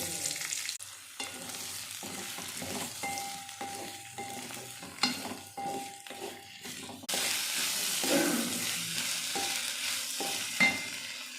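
Onion, tomato, garlic, ginger, cinnamon, cloves and fennel sauté in a pan with steady sizzling and repeated spatula stirring scrapes, growing louder and denser partway through, close up with no talk.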